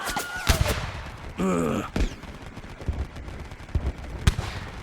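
In an audio drama battle scene, bursts of sound-effect gunfire crack and thud in irregular volleys alongside a brief electronic tone. Someone shouts a short line over the shooting.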